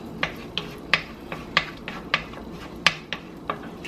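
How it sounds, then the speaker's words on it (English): Garlic stirred in a pan for mushroom and wild rice: a run of sharp metallic clacks and scrapes of a utensil against the pan, about ten distinct knocks at an uneven rhythm, close and fairly loud. "I'm going to add my garlic. I'm just going to give that a nice stir."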